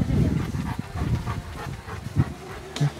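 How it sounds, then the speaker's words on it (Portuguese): A young Boerboel dog gives close, low snuffles and faint whimpering noises in short uneven bursts, with a few sharper yips near the end. "Nossa, que cão maravilhoso, cara"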